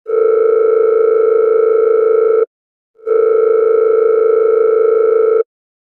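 A telephone dial tone sounds while a call is placed: a loud steady tone lasting about two and a half seconds, a short gap, then a second equal tone, with nothing else heard.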